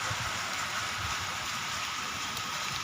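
Rain falls outside in a steady broad wash of hiss, even and continuous throughout, with no talking heard.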